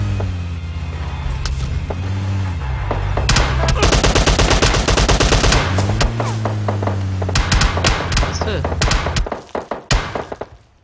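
Rapid automatic gunfire in PUBG, loud dense bursts of shots with thuds and a vehicle engine underneath, while players talk excitedly over the shooting before it stops.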